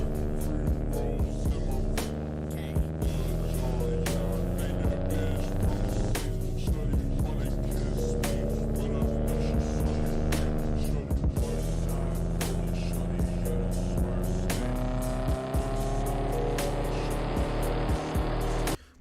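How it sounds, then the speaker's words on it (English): A car engine runs hard at full throttle in a steady, continuous drone whose pitch climbs and falls across nearly twenty seconds, loud and close, with no talking over it. "We hear the car so hard on throttle"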